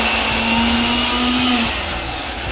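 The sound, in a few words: mixer grinder grinding lentil paste for vadi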